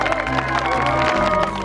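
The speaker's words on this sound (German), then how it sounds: "Klatscht mal ein bisschen lauter für den guten Joe Brannigan." Rodeo crowd clapping and cheering for a rider, a continuous loud roar of applause and voices with a low music or background hum underneath.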